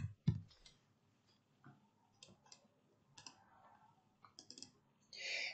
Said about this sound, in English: I'm going to type in VLOOKUP